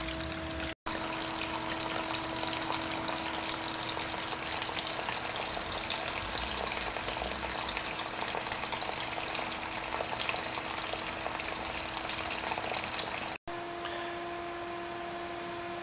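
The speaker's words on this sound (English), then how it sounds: "we're just gently overflowing into a second container" A 2.5 gpm water treatment test unit runs at steady state, with water gently overflowing into a second container as a continuous trickling gush over a steady pump hum, with no voices.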